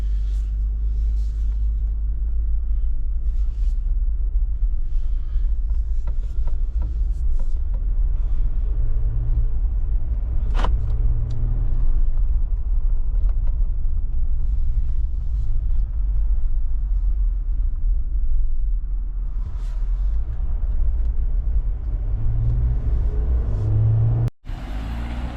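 A 2024 Jeep Wrangler JLU accelerates on a test drive, heard from inside the cabin as a steady, low engine drone and road rumble that rises gently, with faint voices now and then before it cuts off abruptly.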